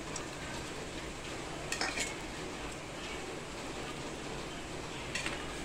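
Garlic frying in hot oil in a pan for a spicy Kolhapuri bhadang puffed-rice snack, with a steady dense sizzle throughout and a few brief utensil clinks and scrapes.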